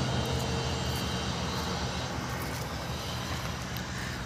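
Steady, dense highway road noise from vehicles roaring past continuously, a broad whooshing drone with no pauses.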